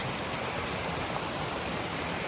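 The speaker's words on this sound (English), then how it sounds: "It's a confluence of two large creeks that come together here." The Maligne River at the confluence of two large creeks, a steady broadband rush of flowing water filling the scene without pause, moderately loud and close, with no voices.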